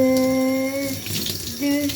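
Tap water runs in a steady close rush for a shower in a bathroom, with a brief shift in flow partway through and a faint tonal hum over the splashing.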